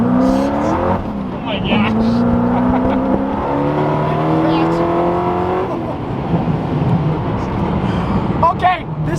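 A Hennessey Venom GT with 1,244 horsepower pulls hard at full throttle, its engine note climbing through the gears in loud rising sweeps, while an excited occupant exclaims over the roar.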